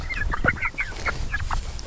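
A young rooster crows and clucks in a string of short, close, fairly loud calls lasting a couple of seconds, with no voices over it.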